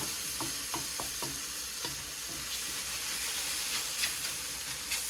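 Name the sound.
deglazing pan with marsala, scraping and sizzling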